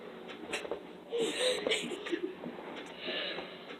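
A person imitates a dog sneezing with their voice, making a few quick, breathy, wheezing snorts close by.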